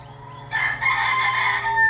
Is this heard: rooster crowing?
yes